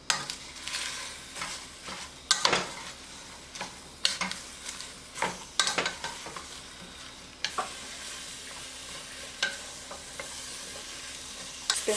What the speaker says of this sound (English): I'm just going to saute my vegetables in it.